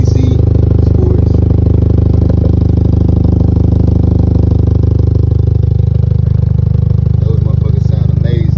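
A Kia Optima fitted with DC Sports exhaust tips gives a loud, steady, deep exhaust drone close to the microphone, with a slight rise in engine note near the end.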